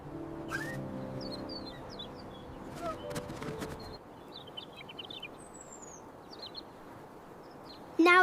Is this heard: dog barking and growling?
no